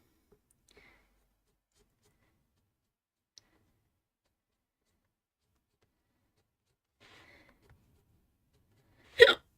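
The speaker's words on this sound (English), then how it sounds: "It's a hiccup thing." A single short hiccup burst, fairly loud and close, comes at the very end after near silence with faint ticks during a colored pencil coloring session.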